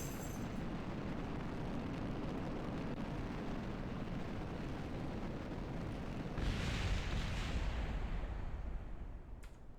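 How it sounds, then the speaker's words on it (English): Solid rocket boosters in Kerbal Space Program roar continuously as a loud, dense rumble that swells slightly stronger near the end. "Solid rockets."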